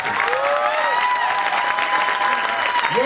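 Audience at a Hindi kavi sammelan poetry gathering bursts into steady, dense applause lasting the whole moment, with a raised voice or two cheering over the clapping.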